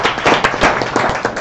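Conference audience clapping after a mining presentation, a brief, dense and loud burst of applause from many people, with no voices over it.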